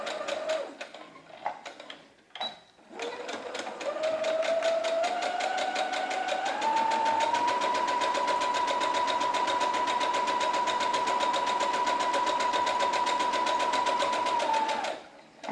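An electric sewing machine stitching face-mask pieces together at the front seam runs in a few short starts, then settles into a long, steady, fast whirring run before stopping abruptly.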